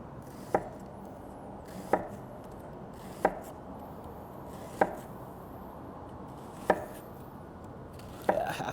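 A knife slices through a red onion on a cutting board in six crisp, evenly spaced chops, each one close and distinct against a quiet room.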